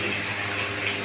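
Water is poured into a spice masala during cooking, making a continuous close splashing gush with no other sounds over it.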